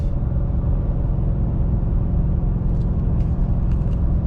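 A 2021 pickup truck, either a Nissan Titan with a gas V8 or a Ford F-150 with a hybrid V6, pulls a trailer at about 55 mph, its engine and road noise droning as a continuous loud low rumble from the cab.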